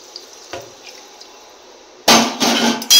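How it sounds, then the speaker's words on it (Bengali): Hot water kept in a small bowl goes into a cooked-down curry: near-quiet at first, then sudden loud hissing, splashing bursts close by. "কষানো হয়ে গেছে, এবার জলটা দিয়ে দেবো। গরম জল করে রেখেছি এখানে একটু বাটিতে"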